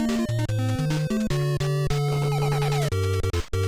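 Nintendo World Cup NES soccer game music: bright chiptune square-wave melody over a bouncing bass line, loud and continuous with quick note changes and no talking.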